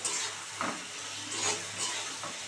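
Spiced masala and tomato sautéing in a pan, a soft steady sizzle with occasional stirring scrapes, close and moderately quiet with no talk.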